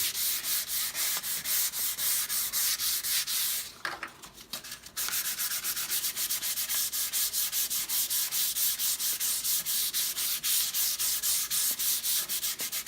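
Hand sanding of a wooden half hull model with 320 grit sandpaper, close and steady back-and-forth rasping strokes in a quick regular rhythm, pausing briefly near the middle before resuming.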